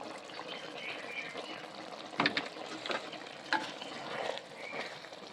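Raw banana curry with ghee and garam masala being stirred in a frying pan, giving a steady soft sizzle broken by a few louder scraping clinks of the spoon, close and fairly quiet.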